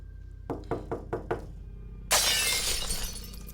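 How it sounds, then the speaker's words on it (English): Four quick, sharp knocks on kitchen window glass, then a loud burst of shattering glass with crackling debris trailing off, all close and without voices. "There was this quick and sudden loud bang on the glass, followed by a window in the kitchen completely shattering."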